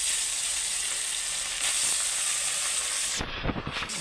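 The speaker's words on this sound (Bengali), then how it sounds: "দিয়ে এবার আমি মাছগুলো এক এক করে দিয়ে ভেজে নেবো।" Bhola fish pieces frying in hot oil in a kadai, giving a loud, steady sizzle and hiss that runs throughout, with a burst of bubbling and a stirring clatter near the end and no talking.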